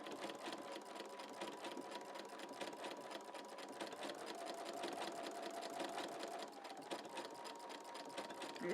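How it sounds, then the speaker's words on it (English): A sewing machine stitching quilt fabric runs steadily throughout, its fast even needle clatter quiet and close with no pauses. "I'm dropping that right here so that the needle is right in line with the edge of the fabric. And you just stitch."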